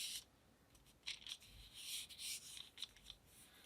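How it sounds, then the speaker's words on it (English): Scissors snip and rasp softly around a paper template laid on craft clay, a run of faint irregular cutting and rubbing strokes heard up close with no talking. "take your scissors, and we're just going to cut around the bunny"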